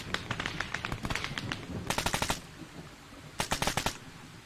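Rapid bursts of gunfire in a military video game: several quick automatic volleys with short pauses between them, fairly close and sharp, with faint background noise.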